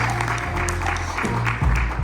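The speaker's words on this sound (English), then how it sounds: "Give Charles a nice round of applause." A seated group at an entertainment session claps for a volunteer joining a magic act: a brief, dense patter of applause over steady low background music.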